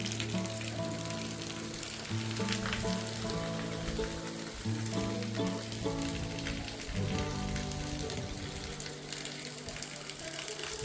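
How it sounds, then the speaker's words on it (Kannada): Steady rain falls outdoors at a hilltop temple, a continuous hiss of drops pattering on surfaces, with tonal sounds that may be music or bells layered throughout. "ಸ್ವಲ್ಪ ಕಮ್ಮಿ ಆಯಿತು ಮಳೆ ಈಗ"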